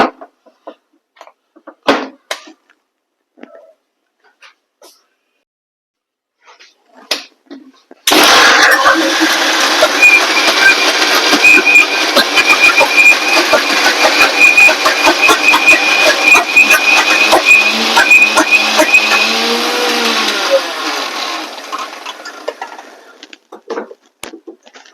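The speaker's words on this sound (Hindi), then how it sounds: "पहले मैं इसको पीस लेती हूँ, मिक्सी रखने की भी जगह नहीं है इधर।" A kitchen mixer grinder grinds moong dal in a loud, steady whining run of about twelve seconds, after scattered clicks and handling noises, then winds down.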